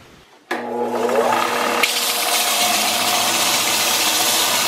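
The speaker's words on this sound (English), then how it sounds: "We're going to get it on the belt sander," Belt sander running on a piece of oak for a knife handle, starting up abruptly and then holding a steady, loud motor whine and abrasive hiss close by with no talk.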